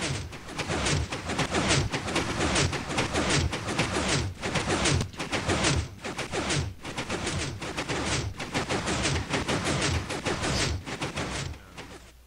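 Minecraft redstone pistons in a punch-card music box fire in a dense, continuous barrage of rapid percussive clacks and thumps across the whole stretch, loud and close with no pauses.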